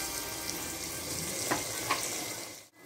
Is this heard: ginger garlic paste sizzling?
yes